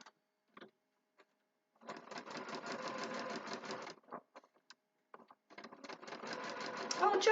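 A sewing machine stitches fabric spools for a quilt block in two close, steady runs of rapid mechanical whirring, separated by a pause and a few soft clicks.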